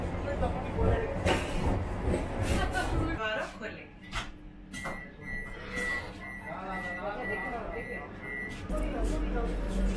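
Inside the Howrah–Puri Vande Bharat Express running and slowing toward Balasore station, a loud low rumble of the moving carriage that eases off, with a repeated electronic tone and someone speaking over it.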